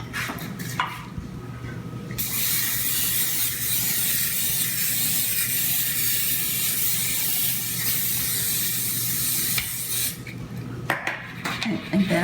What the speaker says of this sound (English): And then I'm going to spray the pan